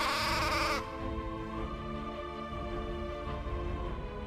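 Dall sheep bleat in Alaska's mountains, a sustained wavering bleat that cuts off early, then a quieter nasal, droning call continuing, moderately distant.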